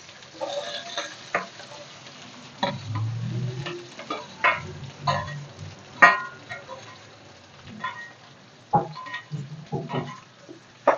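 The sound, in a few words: onions and curry leaves frying in a pan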